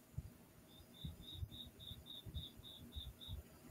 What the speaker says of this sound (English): I opened my window. That's why there's crickets.